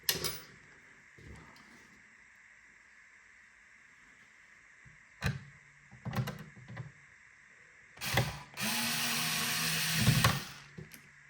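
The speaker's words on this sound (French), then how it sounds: "on a les trois vis à tête plate qui vont là, qu'on va remettre aussi" Three flat-head screws go back into a PS4 console in short, separate bursts of whirring and clicking screwdriver sound, close up, with quiet pauses between them and a longer burst near the end.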